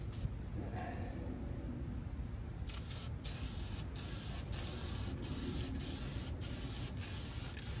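Rustoleum hammered spray paint hisses from a can onto a truck's rear bumper, with a faint start followed by a series of loud, close bursts broken by short pauses.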